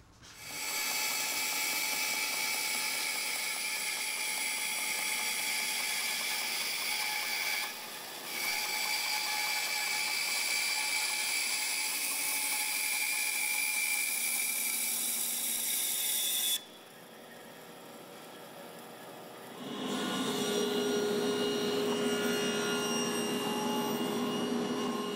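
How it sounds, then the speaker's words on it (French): A workshop band saw cuts a curve in wood for a dresser build, a loud continuous whining buzz with brief dips as the blade eases off, a quieter idle stretch, then a deeper load as cutting resumes. "je vais aller à la scie ruban découper la courbe"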